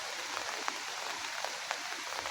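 Rain falls steadily in a rural Thai village, a soft continuous hiss with occasional sharper drops tapping on a surface nearby, fairly quiet and with no talk.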